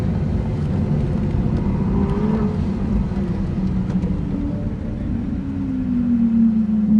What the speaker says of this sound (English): Fast car.